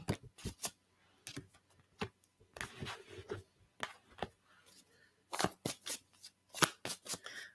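Tarot cards being shuffled by hand, with close, crisp riffling and tapping in short irregular bursts, fairly quiet, with no talk over it.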